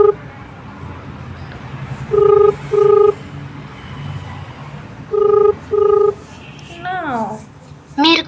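A phone call rings out unanswered: two pairs of short electronic ringback tones separated by a pause, then a recorded voice message briefly at the end.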